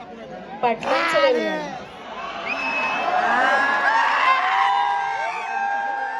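Crowd cheering and whooping at a bullock cart race show, a sustained wash of shouts and babble with a voice speaking over it near the start.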